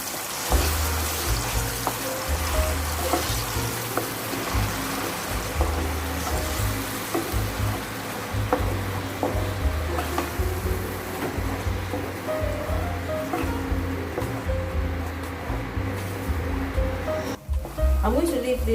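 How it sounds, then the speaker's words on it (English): Eggplant sauce frying in a pan, producing a dense steady hiss and bubbling sizzle that runs loud and continuous throughout, close up and without pause. "I'm going to leave this to fry for good 10 minutes."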